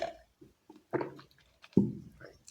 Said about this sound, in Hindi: थोड़ा सा पानी पी लेते हैं।